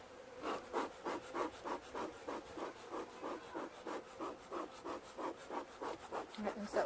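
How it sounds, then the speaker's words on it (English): A wooden beehive being closed up: a steady, regular scraping rub repeats about twice a second, close and quiet, with a faint bee hum beneath. "So I'm going to close this hive up."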